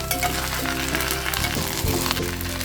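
A Konkan-style rice pancake (ghavne) frying on a hot pan over a raised flame, a steady, close crackling sizzle with a low hum beneath and occasional soft shifts.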